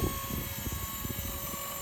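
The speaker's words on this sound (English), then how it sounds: "I get a wobble with this helicopter in the air sometimes, as you can see in the video." A Blade 230s RC helicopter hovers close by, its rotor making a rapid, steady chopping buzz that stays fairly quiet throughout.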